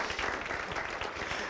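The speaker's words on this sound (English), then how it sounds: "So if you please can join me in giving Vicki a round of applause" Audience applause at a chamber of commerce awards event held at a zoo, a short stretch of steady, moderately distant clapping from a crowd.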